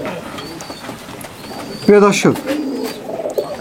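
Nildumba and MA3 high flyer pigeons, a short, close coo with a rolling, pulsed throat sound under a voice, with another soft coo following.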